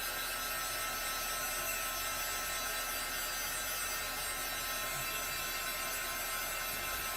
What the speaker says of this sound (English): It's a heat gun and it gets very hot